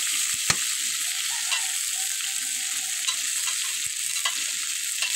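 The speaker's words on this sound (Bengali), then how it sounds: "এখন আমি দিয়ে দিলাম তেল, আলু, ভেজে রান্না করবো।" Potatoes frying in oil in a pan give a steady, even sizzle with a couple of sharp knocks from the utensil.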